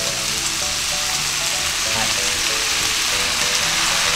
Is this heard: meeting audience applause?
no